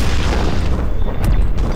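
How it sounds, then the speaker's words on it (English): A cannon fires from a mech in the video game MetalCore, a deep, heavy boom that rumbles loud and close through the whole short moment, with no voices over it. "it's more like a cannon shot"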